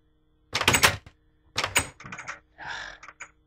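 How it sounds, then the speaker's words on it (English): Blocky clacks and thunks of a door closing in a Minecraft map, several short bursts in quick succession with brief gaps, close and fairly loud, no voices. "Let's close this door."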